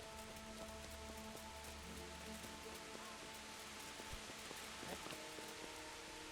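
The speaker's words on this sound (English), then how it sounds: "Look at the detail of like the rain, by the way. Like, look how the drops are falling from like the roof here." Steady rain from the video game Kingdom Come Deliverance pattering on surfaces and dripping from a roof, a soft even hiss with scattered drops, faint and continuous.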